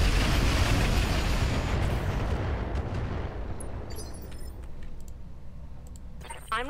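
LRM missile volleys and weapon fire in the mech strategy game Roguetech: a loud, dense roar of launches and explosions that slowly fades, with scattered clicks near the end.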